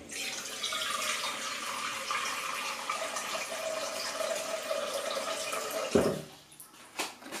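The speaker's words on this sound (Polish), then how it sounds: "Wlewam tutaj około 750 ml wody." Water pouring from a tap into a cooking pot, about 750 ml, a steady rushing stream filling the pot for several seconds before cutting off with a clunk and a brief clatter afterward.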